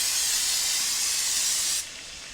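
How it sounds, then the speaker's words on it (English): Cooking spray hisses from a can into a 6-quart crock pot in one steady, close, bright spray lasting under two seconds, then cuts off to quiet. "I'm going to lightly spray a crock pot."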